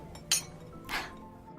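Glasses clink twice in a toast, two bright, close chimes less than a second apart against a quiet indoor background.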